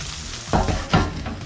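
Steak and shrimp scampi with noodles stirred in a pan: two quick scraping stirs over a low, steady sizzle, close and fairly loud.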